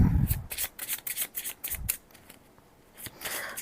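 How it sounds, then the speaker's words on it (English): A deck of print-and-play zombie survival game cards is riffled and shuffled up close, giving a quick series of crisp flutters and snaps with brief pauses between them. "Shuffle it back in."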